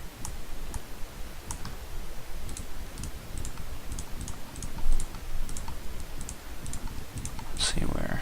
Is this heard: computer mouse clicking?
yes